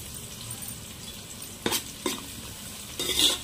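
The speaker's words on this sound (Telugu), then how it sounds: "ఇప్పుడు దీన్ని మనం కొంచెం దోరగా ఫ్రై చేసుకుందాం." Dried red chillies and coriander fry in a pan with a steady low sizzle, broken by a few sharp scraping stirs near the middle and a longer stirring burst near the end.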